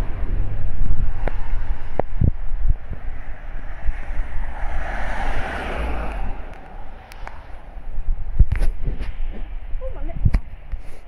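A sudden strong wind gust batters the microphone outdoors during heavy rain showers, a roaring rush that peaks mid-clip amid scattered knocks and thumps, with people talking nearby.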